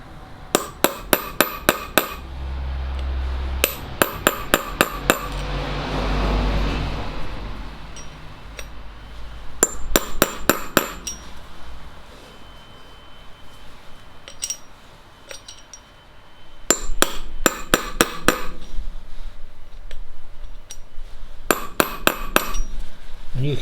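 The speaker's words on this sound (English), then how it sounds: "the only thing I can do now is with my punch to tap it down" Sharp metallic hammer taps on a punch, tapping a part down while assembling a front suspension, come in quick bursts of several strikes, separated by pauses with faint background rumble.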